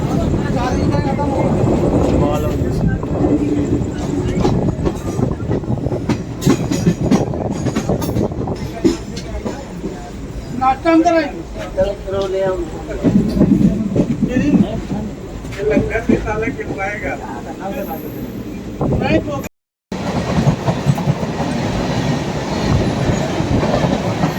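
Doon Express passenger train running on rails from a general coach, a steady loud rumble with rhythmic wheel clatter throughout, broken by a brief gap near the end, with voices faintly present.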